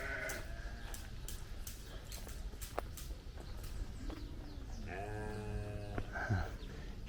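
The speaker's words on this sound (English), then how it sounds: "Sheep." A sheep bleats twice on Gorée Island in Senegal, the calls moderately near over steady outdoor ambient noise and wind.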